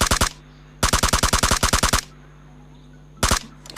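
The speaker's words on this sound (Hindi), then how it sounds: "इसमें मैंने पता नहीं कितनी ही गोलियां मार दी" Rapid automatic gunfire from guns in the mobile battle royale game PUBG Mobile rings out in loud, evenly spaced bursts: a short volley, a longer run of about ten shots, a pause, then another brief burst.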